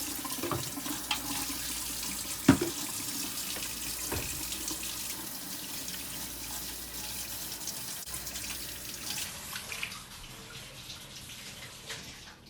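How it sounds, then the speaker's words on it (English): Tap water runs steadily from a kitchen faucet into a sink while hands are washed, a soft, continuous splashing hiss with occasional louder splashes, fading slightly toward the end. "After that, wash your hands."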